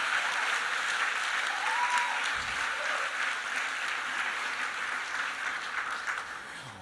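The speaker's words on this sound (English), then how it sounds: "huge round of applause." Congress audience at a closing plenary session claps in sustained, dense applause that fills the hall, holding steady then tapering slightly near the end.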